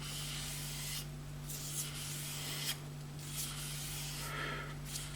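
An Eka Nordic H8 knife blade is convex-ground against an abrasive, giving steady rubbing, sanding strokes in long repeated passes over a constant low electrical hum.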